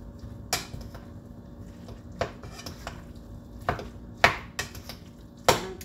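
Eggs whisked by hand in a bowl, with sharp, irregular clinks of the utensil striking the bowl's side over a soft background hum and no talking.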